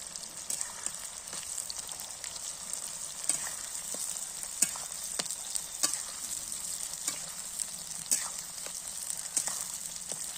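Onions sizzle and fry in hot oil over a raised flame for a rice flour pitha recipe, a steady close crackling hiss with small pops and occasional stirring, no voices.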